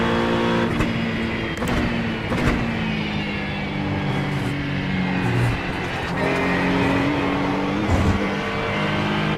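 Race car engine in the iRacing sim at Daytona, loud and continuous, dropping off under braking then climbing again through repeated rising revs with brief gear-change breaks.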